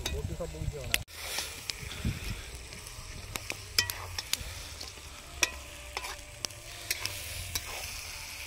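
Spiced potatoes for aloo kosha sizzle in a pan at an outdoor picnic kitchen while a utensil scrapes and knocks through the mix in irregular strokes, a soft continuous fry under occasional sharp clinks, with a voice briefly at the start.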